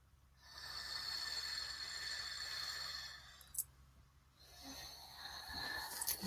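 Forceful rhythmic breaths of a bellows breathing exercise, a rapid steady stream of loud, near, airy huffs running for several seconds, pausing briefly, then resuming.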